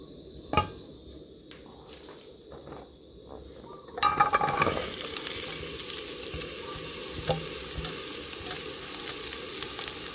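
Oil sizzles steadily in a hot pan, starting quieter with a few knocks and clatters before the frying hiss rises sharply and holds loud and continuous to the end.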